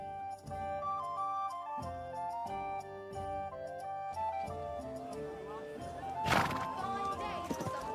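Horse hooves clop under tonal background music in the video game Kingdom Come: Deliverance 2, with a loud neigh bursting out near the end.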